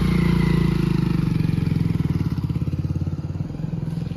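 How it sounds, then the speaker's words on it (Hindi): A motorcycle taxi booked through Uber rumbles along with a steady, pulsing engine throb that stays close and fairly loud throughout, with no talk over it. "चलो बुक करिए मैंने यहाँ से उबर बाइक।"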